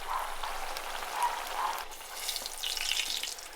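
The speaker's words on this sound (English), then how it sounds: "there you have it, fried squash" Yellow squash slices fry in a pan with a steady, soft sizzle and crackle like light rain, holding even throughout with no talking.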